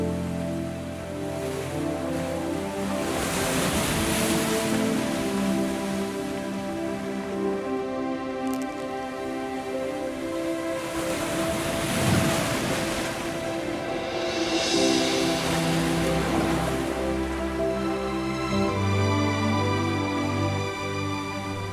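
Ocean waves of an incoming tide wash onto a beach, a continuous loud surf with swells breaking and receding, heard alone with no voices.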